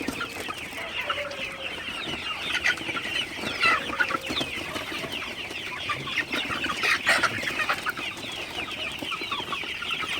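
Many Sonali super hybrid chickens in a shed at night cluck and chatter continuously at moderate distance, a busy overlapping flock murmur with no talking.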